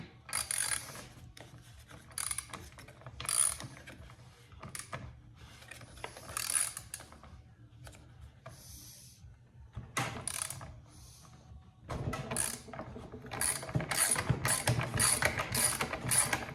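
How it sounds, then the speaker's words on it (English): Wrench working a 13 mm bolt on a Husqvarna 125B leaf blower with a loose carburetor, giving repeated ratcheting clicks in bursts with short pauses between them, close by and fairly quiet, with no talking. "you turn it right to loosen it up"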